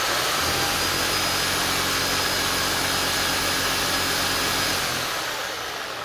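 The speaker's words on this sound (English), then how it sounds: "It makes that horrific noise that vacuum cleaners make." A vacuum cleaner motor runs on a simple controller with a loud, steady, high-pitched whine and roar that holds for several seconds and then eases off slightly near the end.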